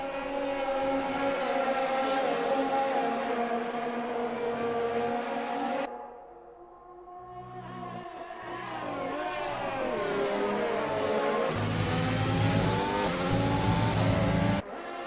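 Formula 1 race cars in F1 2020 at the Bahrain GP, loud high-pitched engine whine rising and falling through gears, a brief lull as one passes, then another car screaming close by.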